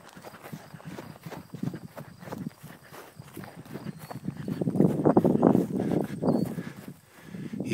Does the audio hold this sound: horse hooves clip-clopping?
yes